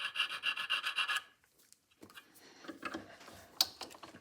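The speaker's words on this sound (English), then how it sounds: "So I take a jeweler's file like this and just do a little like that." A jeweler's file rasps against a Victor phonograph speed control part, starting with a quick run of rhythmic scraping strokes, then a brief pause followed by softer scratchy rubbing and small ticks, close up.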